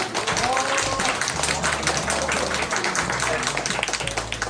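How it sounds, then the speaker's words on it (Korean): An audience in a university library claps steadily to welcome a magician onstage, with a voice speaking over the applause. "우리 다 같이 큰 박수로 환영해 주시기 바랍니다"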